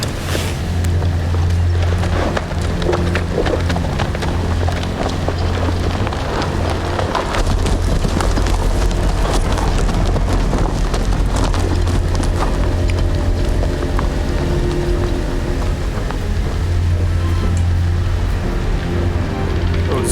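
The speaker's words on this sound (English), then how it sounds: "But why did my horse run?" A horse runs in the Game of Thrones Telltale video game, steady hoof clatter and woody creaks over a constant low hum and music-like tones, loud and continuous throughout.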